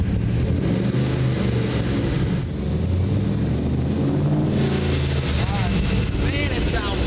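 A Chevy C1500 race truck with a stroked LS engine pulls away, its steady engine drone rising and fading over several seconds with wind buffeting the microphone and people talking nearby.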